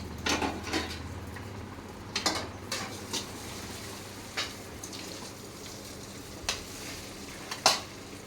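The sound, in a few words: tempering sizzling in hot oil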